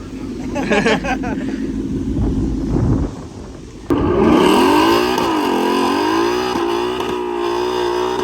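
An Audi A3 fitted with carbon fenders doing a burnout, its engine revving loud and close with rising and falling pitch after a sudden jump in level, preceded by a rougher idle and wind noise, with people talking over it.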